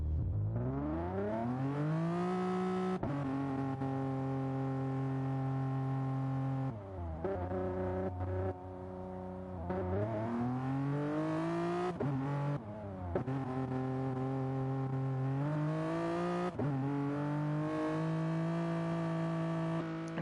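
Gran Turismo Sport race cars pulling out onto the circuit, one engine close by revving up through repeated gear changes with rising pitch sweeps and brief dips between shifts, loud and steady with no talking.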